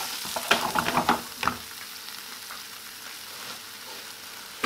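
Egg cooking with curry in a smoky pan over high heat gives a steady close frying sizzle, with a few clinks and scrapes of stirring early on before it settles into an even hiss.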